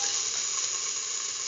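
Ginger hits a hot pan and gives a brief, even hiss of sizzling, steady and fairly close, with no voices.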